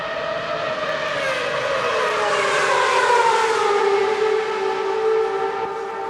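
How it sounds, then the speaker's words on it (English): Ferrari Formula 1 race cars at a Ferrari World Finals event roar past together, a loud, sustained, high-pitched engine wail that bends slowly downward in pitch as the pack passes, with no talking. "And both Marco and I will be quiet now as we listen to the engine noise."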